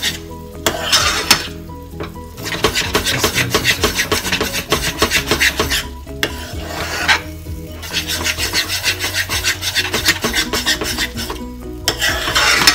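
Moong dal roasting over a high flame, stirred hard and continuously in the pan, giving a steady rasping, scraping rub that runs almost unbroken at close range, with short pauses between strokes.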